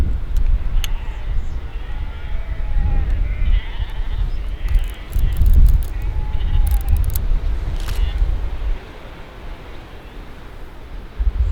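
Sheep bleat across an English countryside near Rye, scattered calls near and far over steady outdoor wind rumble, with a camera shutter clicking now and then.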